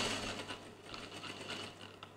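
A home sewing machine runs steadily while stitching a child's garment, a soft continuous mechanical whir with faint rhythmic needle ticks throughout, fairly quiet and close.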